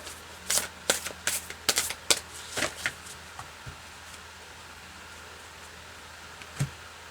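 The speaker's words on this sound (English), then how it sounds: "Just want to shake this up a little bit, and I'm going to cut the deck." A deck of cards is shuffled and cut at close range: a cluster of crisp riffling flaps and slaps over a few seconds, then quiet, then one last soft snap.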